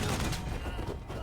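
Gunfire from characters shooting in the Wasteland 3 video game comes as a brief, dense volley of rapid shots at fairly close range.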